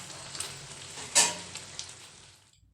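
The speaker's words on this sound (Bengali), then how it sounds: "হাই টু মিডিয়াম ফ্লেম রেখে আমি কুলটা এইভাবে ফোটাতে থাকবো, যতক্ষণ না কুলটা গুড়ের মধ্যে একেবারে মাখা মাখা হয়ে যাচ্ছে" Jujubes (kul) bubbling in jaggery over a medium flame for Bengali kuler achar, giving a soft continuous sizzle with one brief louder spit partway through, close and steady, then fading near the end.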